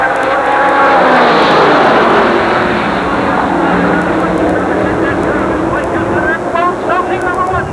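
Super late model stock cars roar around the Jennerstown Speedway oval during a heat race, a loud continuous wash of engines with cars sweeping past, while an announcer talks over the action throughout.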